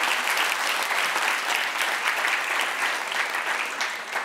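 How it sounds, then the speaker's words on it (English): Applause from the audience at a corporate innovation talk, a dense, sustained clapping that holds steady for several seconds before easing slightly at the end, with no speech over it. "round of applause for everyone here"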